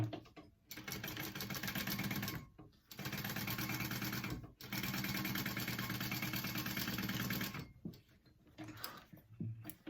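A sewing machine stitching a fabric pouch runs in long steady bursts of rapid mechanical whirring, close by, stopping briefly between runs and ending in shorter stutters.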